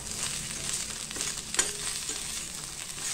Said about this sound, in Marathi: असा तेलामध्ये आपण असं छान खरपूस भाजून घेणार आहे बोंबील